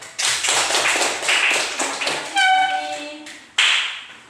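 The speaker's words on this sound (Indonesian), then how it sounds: "tepuk tangan untuk kelompok 2." Classroom students clapping for a presenting group, a few rhythmic bursts of claps that break off partway through, followed by a brief ringing tone and one last clap burst near the end.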